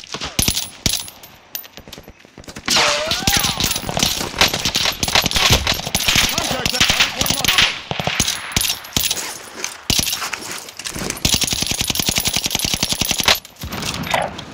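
Dense, continuous enemy gunfire from Call of Duty Warzone, rapid bursts of automatic shots crackling loudly and almost without pause, with brief gaps and a high electronic tone running over the top.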